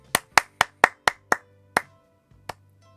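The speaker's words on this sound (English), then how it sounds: "everybody, time to applaud" One person claps alone, seven quick sharp claps in a fairly even rhythm followed by two slower, spaced claps, close and crisp against a quiet background with a faint low hum.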